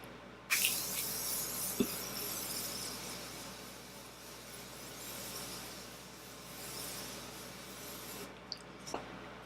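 A burst of fine Morphe makeup setting spray hisses close by for several seconds, fading gradually, with a couple of soft clicks near the end.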